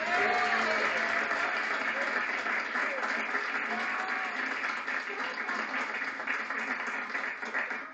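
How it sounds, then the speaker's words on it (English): Wedding guests at a civil partnership reception applaud steadily and fairly loudly, a dense wash of clapping that carries on with some voices mixed in before tapering slightly at the end. "Big round of applause."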